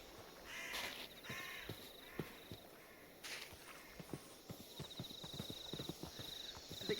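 A horse in a Minecraft-style server game runs with quick, hollow clip-clop hoofbeats over terrain, joined by repeated crow caws and bird calls, no talking heard.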